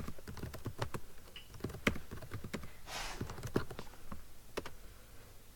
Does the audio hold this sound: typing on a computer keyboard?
yes